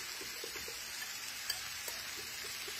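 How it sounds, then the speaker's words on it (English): Warm milk being stirred in a pot to work out the lumps, for a Philly-style cheesesteak: soft, steady spoon strokes with a faint sizzling wash underneath and a couple of light taps, no talking. "I'm just going to stir this up and make sure I've got all the little lumps taken out of this."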